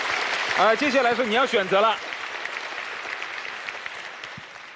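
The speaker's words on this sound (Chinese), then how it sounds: "来，掌声送给他。" Studio audience applause on a Chinese television job-seeking show, a broad steady wash of clapping that continues under someone speaking over it, then fades slightly as it carries on alone.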